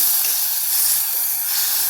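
Steady, loud hiss of water sizzling as it is added to a ground spice paste in a hot kadhai, continuous throughout with no voices.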